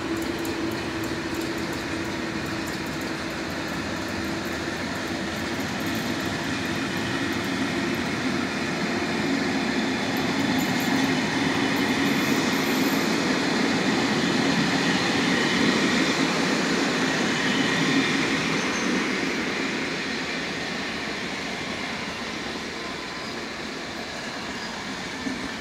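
An Intercity passenger train pulls out and runs past at a station with a strengthened consist including a baggage car, a loud steady rumble of wheels and rail noise that swells mid-clip and eases off, with no talk.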